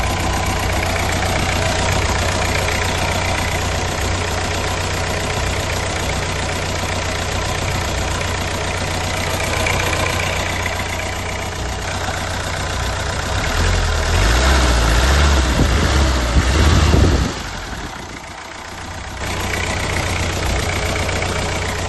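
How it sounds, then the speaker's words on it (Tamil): A Tata Sumo engine idles close by with a steady low rumble and a faint knocking beat, swelling briefly before a short dip and then settling back to an even idle, with no voices. "இன்ஜினோட நாய்ஸை லைவாக கேளுங்க."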